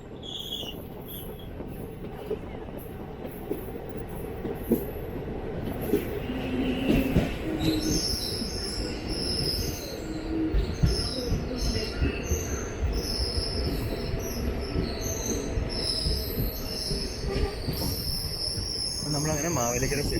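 Velankanni–Ernakulam express train pulling into Mavelikkara station, with steady rolling rumble, wheel clatter and high squealing wheels on the rails, plus a faint hum of crickets throughout.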